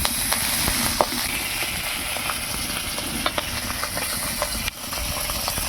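Pond fish fry in hot oil in a wok over a kitchen stove, giving a steady, close sizzle speckled with small pops and crackles, with no talking.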